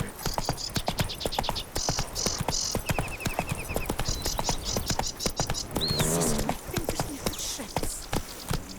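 Hooves of Roach, a horse in The Witcher 3, clopping in a quick galloping rhythm close by, mixed with game effects and short chimes, with a voice speaking briefly.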